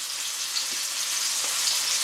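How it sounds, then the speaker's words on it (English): Chicken pieces sizzle in a hot frying pan for a honey garlic chicken meal, a steady, close, bright crackling hiss with no talk over it. "Oh, you can already hear it sizzling."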